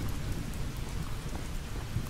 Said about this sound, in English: The storm makes it so that I can't hear anyone.